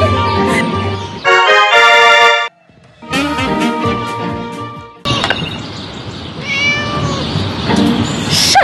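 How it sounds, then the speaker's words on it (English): A cat in the Scary Teacher 3D video game meows loudly and repeatedly in close, tonal cries, mixed with short game sound effects and thumps, with a brief drop to near silence partway through. "Shut up, you silly cat!"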